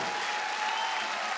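A brief burst of crowd applause at a Woodstock 2014 festival concert, dense and steady clapping from many hands, with no voices standing out.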